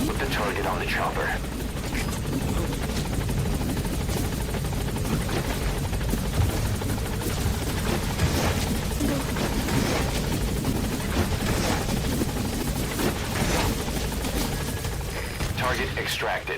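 Helicopter in the stealth game Metal Gear Solid V, its rotor thumping loud and continuous throughout, with distant gunfire bursts and voices talking over it.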